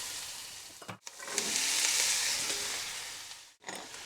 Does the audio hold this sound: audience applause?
no